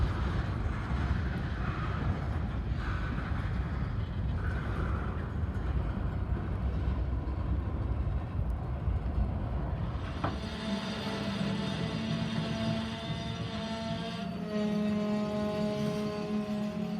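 A Union Pacific mixed freight train rolls slowly along the tracks with a steady low rumble, then a squeal of brakes and grinding wheels rings out loud and sustained, with no talking.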